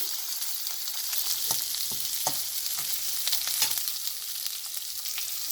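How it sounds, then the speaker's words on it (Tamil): Onions sizzle and sauté in a pan for paneer chukka, a steady broadband frying hiss with occasional sharper crackles and stirring clicks, close and moderately loud with no talking. "அதை போடுறேன் பாருங்கள் இது நல்லா வதங்கட்டும்"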